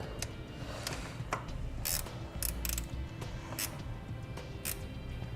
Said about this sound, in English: Slide the terminal over the stud. Reinstall the nut.